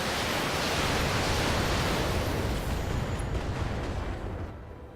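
A big explosion in the BattleTech video game, a dense roaring blast of broadband noise that rumbles steadily for several seconds and then begins to fade.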